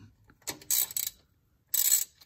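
A 3/8-drive ratchet working a bolt on a Foxbody Mustang transmission, a few close, sharp bursts of metallic clicking separated by brief pauses.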